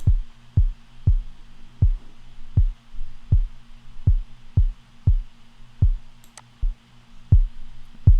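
A steady, punchy low kick drum thumps at a regular mid-tempo pulse, about a dozen hits, with a faint hum underneath.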